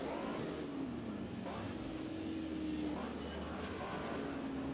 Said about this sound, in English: You hear the engines